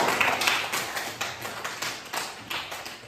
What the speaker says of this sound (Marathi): पल्लवीसाठी एकदा जोरदार टाळ्या